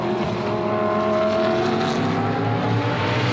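Audi and BMW GT race cars run flat out up the straight at Spa during the 24 Hours, a sustained loud engine drone with rising pitch as they pass close by, no talk.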